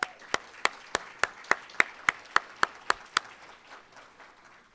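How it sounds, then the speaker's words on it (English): Applause from a luncheon audience honouring retirees comes as about a dozen sharp, evenly spaced claps in a steady rhythm, then fades into quiet room noise. "please join me in applauding for all of our retirees."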